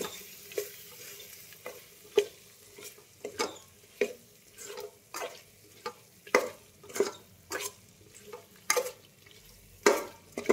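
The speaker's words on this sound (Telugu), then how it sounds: "రైస్ కుక్కర్లో చికెన్ ఉడికింది. మిక్స్ చేద్దాం కొద్దిగా" Cooked chicken with chicken masala and garam masala being mixed in a rice cooker, a soft simmering hiss under regular scraping strokes of a spoon against the pot, repeated about every half second to second.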